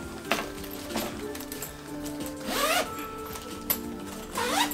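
A zipper being opened on the cover of a Thule Chariot Sport 2 stroller during unboxing, with several quick rasping pulls at close range, some short and one longer, alone.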